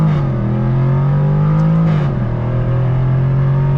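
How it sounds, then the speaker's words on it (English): A 2021 Jaguar F-Type R's supercharged V8 pulls hard under throttle with a deep, pulsing rumble that rises slightly, loud and close throughout. "the sound, the way the engine pulsates, like you can feel it"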